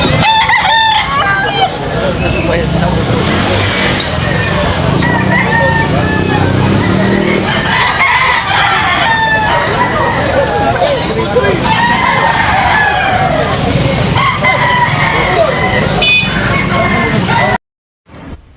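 Gray straight-comb gamefowl roosters crow repeatedly at a Cebu poultry farm, several birds overlapping near and far with clucking, while someone talks steadily over them.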